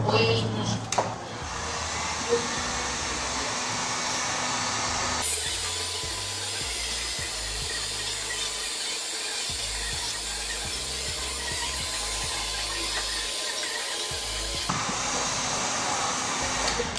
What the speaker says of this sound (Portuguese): eu vou estar utilizando o soprador térmico para estar selando, fixando toda essa bordinha